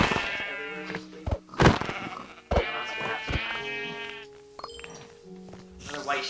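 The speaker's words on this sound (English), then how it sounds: "Another white sheep." Minecraft sheep give several nasal bleats in quick succession, loud and close, mixed with buzzing game sounds and brief clicks.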